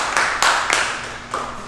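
An audience at a women's history spoken-word cypher session claps for honored guests: a handful of sharp, loud claps in a loose, scattered rhythm, close and without talk.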